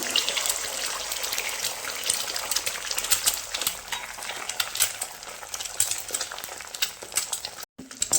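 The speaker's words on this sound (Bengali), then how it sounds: "আমি ডিমটা দিয়ে দিচ্ছি ভেজে নেওয়ার জন্য" An egg fries in a pan in a village kitchen, giving a steady dense crackling sizzle throughout, close and fairly loud, with a brief drop near the end and no talking.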